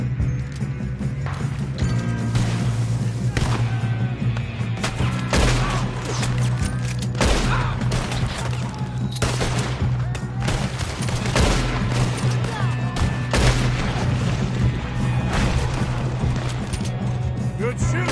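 Repeated gunshots in a Red Dead Redemption II shootout, sharp cracks from several guns firing in irregular bursts over a low steady hum, with occasional voices in between.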